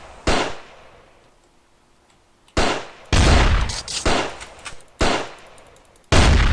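Gunfire in the video game Raze 3: loud, close bursts of shots in irregular clusters, each sharp attack trailing into a brief decay, with quiet gaps between and no talking.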